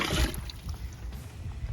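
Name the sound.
dipping water from a bucket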